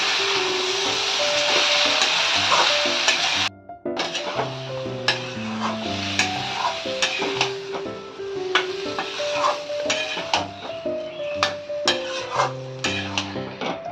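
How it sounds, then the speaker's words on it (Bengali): Drumstick stems fry in a pan for shukto, a sizzle that briefly cuts out and then resumes under repeated scraping and stirring knocks of a utensil against the pan. No voices. "ডাঁটাগুলো দিয়ে আবারও ভাজতে হবে।"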